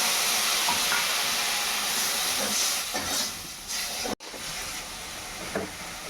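Tomatoes and a spice paste sizzle and hiss in a hot pan as they are sautéed, a steady frying crackle with faint stirring, then a brief break before the sizzle resumes.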